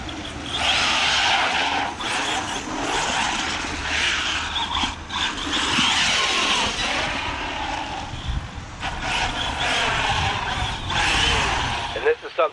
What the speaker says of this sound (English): Drifting this truck on wet pavement.